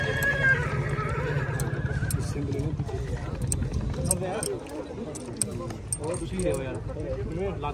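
Horses neigh and whinny at a Marwari horse fair in Sri Ganganagar, with hoof clip-clops and a busy crowd around them. Loud, steady chatter from people runs throughout, and a long whinny rises near the start.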